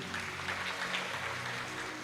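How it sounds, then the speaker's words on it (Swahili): Applause during a Kikuyu church service, a short burst of steady clapping from the congregation, fairly faint and even throughout. "Wacha tumwongeze makofi ingine."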